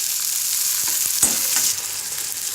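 Onions and chopped tomatoes fry in a pan for a mixed vegetable bhaji, giving a steady close sizzle with a few quick stirring scrapes near the middle and no one speaking.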